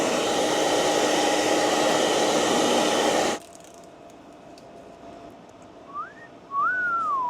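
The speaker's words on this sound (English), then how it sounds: "That's a new snap-on heat gun." A new Snap-on heat gun blows with a loud, steady broadband rush for about three seconds, then cuts off abruptly, leaving a quiet background with a couple of faint rising whistles.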